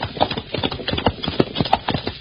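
Horse hooves clip-clopping at a steady trot as a radio drama sound effect, a brisk rhythmic series of hollow knocks, close and clear with no speech over it.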